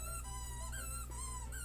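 A dog lets out thin, high squeaks with slight rising and falling bends, repeating a few times close by over a steady low background hum.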